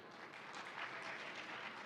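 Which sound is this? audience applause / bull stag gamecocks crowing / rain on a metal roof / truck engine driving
audience applause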